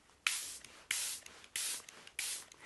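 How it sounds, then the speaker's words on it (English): A Chanel setting spray mists onto a face in four short, evenly spaced hissing bursts, close and crisp, with near silence between them. "So I'm going to spray this on my face first."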